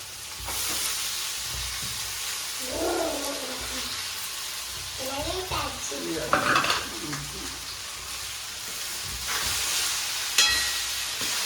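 Sabudana with coriander powder frying in a pan, stirred with a spoon, giving a steady sizzle and hiss with scraping strokes, while a voice talks intermittently over it.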